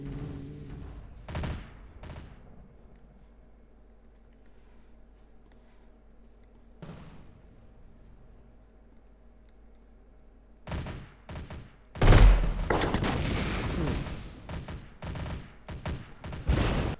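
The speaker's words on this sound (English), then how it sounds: "Those snipers pack quite a wallop." Sniper gunfire in the video game M.A.V., with a few isolated sharp shots early on and then a loud, dense burst of repeated cracks and booms toward the end.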